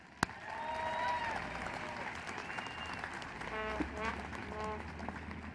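Applause from a commencement audience, a steady wash of clapping at moderate distance with a few whistles and cheers on top, continuing with some crowd noise throughout.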